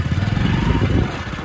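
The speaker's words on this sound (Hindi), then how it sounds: "नहीं स्टार्ट कर लेते हैं हमारी बाइक।" A motorbike engine runs steadily on a muddy village track, a dense low rumble filling the whole moment at close range with no talk over it.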